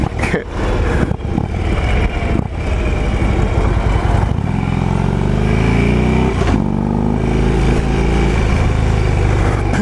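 A 2011 Harley-Davidson Road King Classic is being ridden. Its engine rumbles loud and close under wind noise, rising in pitch as it accelerates through the second half.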